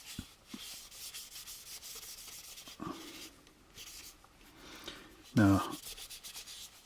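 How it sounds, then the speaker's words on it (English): A rag wipes sanding dust off an AMT U.S.S. Enterprise plastic model kit ahead of putty work. It makes soft, quiet rubbing strokes, with a brief louder knock near the end. "I'm just going to wipe off the dust down here with this rag so that we can get it ready for the putty."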